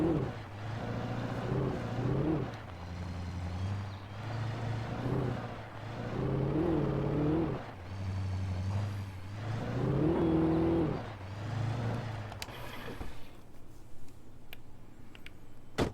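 A car engine in the video game Alan Wake revs repeatedly in rising and falling surges, loud and steady, before cutting to quieter clicks and faint sounds at the end.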